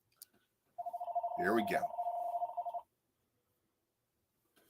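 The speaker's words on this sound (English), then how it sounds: "As the phone goes off in the background." A telephone rings in the background of a live Packers vs. Vikings discussion, one steady electronic ring lasting about two seconds, fairly quiet, with a voice talking over part of it.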